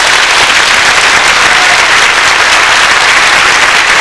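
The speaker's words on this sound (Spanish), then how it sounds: "¿Me ayudan a regalarle un fuerte aplauso al Rey de Reyes?" Loud, dense audience applause at a Christ the King religious retreat fills the space, sustained and even throughout with no voices above it.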